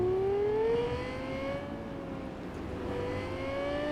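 A car drives in the video game Cyberpunk 2077, its engine holding a steady whining tone that slowly rises and dips, fairly quiet and continuous.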